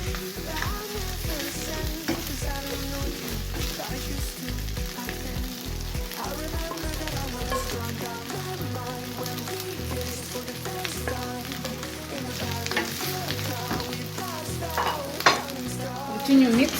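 A spoon stirs vegetable rice frying in a pan, scraping with a steady rhythm over a continuous sizzle, close up, then the stirring eases while the frying hiss carries on.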